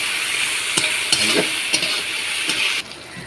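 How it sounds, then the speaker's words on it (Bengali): Ginger garlic paste is stirred in a pan with tomato, a loud continuous sizzle with several distinct scraping strokes of the spatula, close by, before the hiss drops off near the end. "খানিক ভালোভাবে নেড়ে নেবো"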